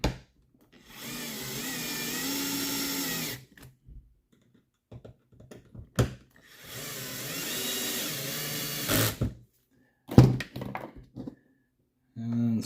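A DeWalt power drill drives screws into an RC10B6.4 RC car front end, two sustained whirring runs of a few seconds each separated by quieter clicks and handling noises, with sharp clatter near the end.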